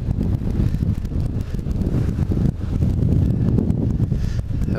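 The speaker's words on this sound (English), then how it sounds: "A windy day on the Atlantic." Strong wind buffeting a sailboat at sea on the Atlantic, roaring in uneven gusts with heavy low-frequency rumble and fluttering microphone noise, loud and continuous with no speech.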